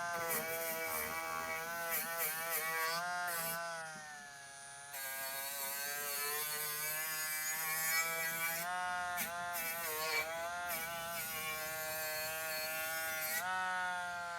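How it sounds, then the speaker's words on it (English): Cordless right angle die grinder sharpening lawnmower blades, a high-pitched whine that rises and dips as the grinder bears on the steel, with a brief lull midway before resuming steadily. "We got to sharpen some lawnmower blades here."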